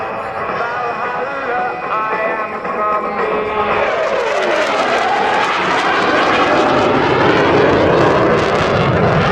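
Roaring jet engine of a CF-18 fighter at a twilight airshow in London, loud and sustained, swelling as the jet passes with a falling whine over a steady broadband rush.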